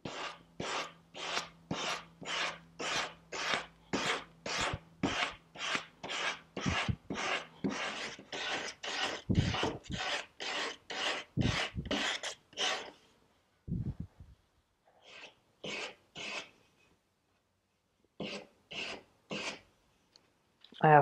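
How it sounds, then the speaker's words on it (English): Hand sanding a wooden furniture leg with loose 220-grit sandpaper, following shapes left by 150 grit and rasps: steady, rhythmic rasping strokes, close and fairly loud, about twenty in quick succession, then a pause and a few sparser strokes. "I'm just going to start sanding around, following the shape that I made at the 150 and the rasps."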